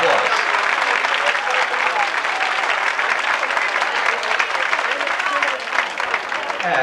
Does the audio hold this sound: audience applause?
yes